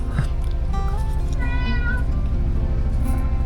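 A cat meowing repeatedly up close in a village in Nagaland, loud drawn-out cries with rising and falling pitch and no talk over them.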